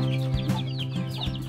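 Native heritage chickens, a first batch of young birds now grown, cluck repeatedly at close range in an irregular, chattering rhythm over a steady low background hum.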